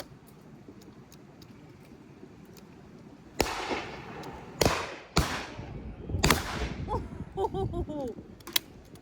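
Shotgun shots at a clay shooting ground, several loud sharp reports spaced a second or so apart, some close and some farther off, over outdoor background noise with faint voices.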